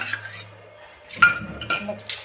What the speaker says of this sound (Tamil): மோர் சேர்த்துட்டு கலந்துக்க வேண்டியதான்